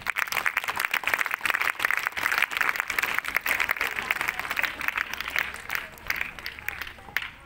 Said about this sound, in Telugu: ఆ రాసిన విద్యార్థులందరూ కూడా ఒకసారి చప్పట్లు కొట్టండి